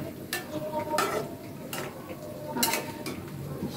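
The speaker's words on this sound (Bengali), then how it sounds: "আমি দিয়ে দিচ্ছি কিছু কাঁচামরিচ ফালি দিয়ে দিচ্ছি এখানে" Sliced green chillies added to a simmering fish curry in a pan, with a few soft scrapes and stirs over a steady low sizzle, close by and without talk.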